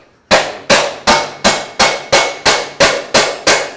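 Hand hammering on sheet metal to shape a cafe racer fender, ten crisp, evenly spaced close strikes with short metallic ring, loud and alone without speech.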